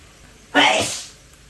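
A single sharp sneeze bursts out close by after a quiet moment, then trails off quickly into silence.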